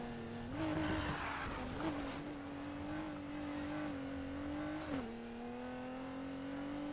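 A Nissan GT-R Nismo in Need for Speed Heat holds a loud, close engine drone, steady with a slight rising push, with no voices over it.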